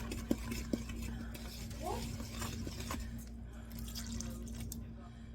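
A spoon or whisk stirs chocolate cake batter and milk in a bowl, soft scraping swirls with a couple of sharp clinks against the bowl, under a steady background hum.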